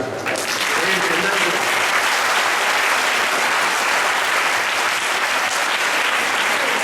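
A large audience claps loudly and steadily at the Balasamajam 30th annual conference valedictory ceremony, a dense, sustained roar of applause that fills the hall from start to finish.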